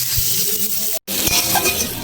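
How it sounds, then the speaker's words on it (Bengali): Onions frying in oil in a pan for a Bengali chicken curry cooked without water, sizzling with a steady hiss broken by a brief silence and a few light clinks of stirring. "পেঁয়াজটা লাল করে ভাজা হয়ে গেছে"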